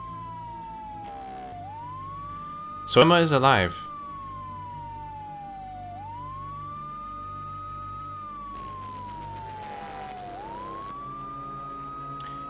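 A police siren sound effect resampled into the music of the PSX video game Mizzurna Falls, its wailing tone rising and falling steadily under a soundtrack, with a brief spoken line partway through.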